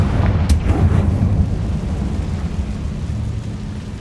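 Confringo fire spell exploding in Hogwarts Legacy, a sharp burst followed by a deep rumbling boom that rolls on and slowly fades, with no talk.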